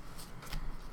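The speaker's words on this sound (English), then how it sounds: "How goes the shuffling over there, Martin?" Playing cards shuffled during a card game, heard as soft, quick papery riffling bursts across about a second, fairly quiet with no talk.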